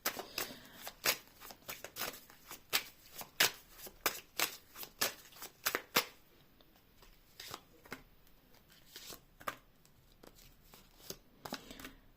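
Tarot cards are riffled and flicked in a quick series of crisp snaps, then slower scattered handling sounds follow in a quiet room.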